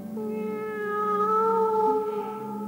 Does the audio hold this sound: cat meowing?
yes